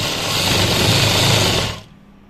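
A sewing machine runs steadily, stitching the seam of a salwar, a loud continuous whirring close by that stops abruptly near the end, with no voices.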